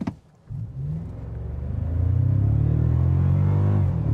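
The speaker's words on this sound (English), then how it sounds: "This time I'm just gonna leave it in sport. We're just gonna floor it." A 2024 Toyota Tacoma TRD Pro hybrid pickup launches at full throttle in sport mode, the engine climbing from a low idle into a loud, steadily rising roar heard up close inside the cab.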